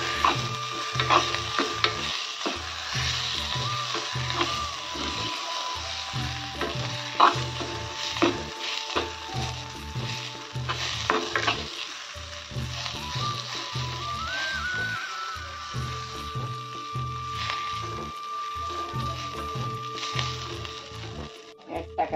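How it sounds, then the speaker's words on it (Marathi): Green pigeon pea ingredients sizzle in a pan while being sautéed for a Vidarbha-style amti, with a soft, steady frying hiss broken by repeated scraping and stirring strokes. "याला छान परतून घ्यायचे."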